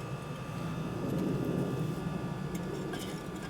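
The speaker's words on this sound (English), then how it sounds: "sometimes you can hear a rocket sound, or like a jet engine" Roaring brick rocket stove fire with strong draft, a steady broadband rush like a distant jet engine, continuous and fairly loud throughout.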